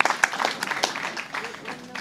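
A poetry gathering audience gives a brief burst of applause, a dense, moderately loud patter of many hands clapping that fades over two seconds.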